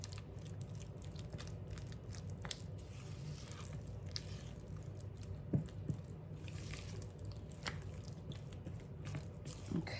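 Shredded buffalo chicken filling is mashed in a bowl, giving faint, steady wet squishing and soft crunchy squelches close by, with a few slightly sharper presses standing out.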